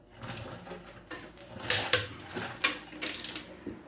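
Lug nuts on a RAM 1500's wheels being torqued down with a wrench: a close series of sharp metallic ratcheting clicks and clanks in uneven bursts, with no talking.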